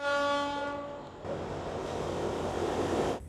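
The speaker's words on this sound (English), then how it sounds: "The train has arrived again." A long train horn blasts loudly with steady harmonic tones for over a second as a passenger train arrives at night on the Chascomús to Zárate line in Argentina, followed by a continuous rumbling roar of the cars rolling in close by.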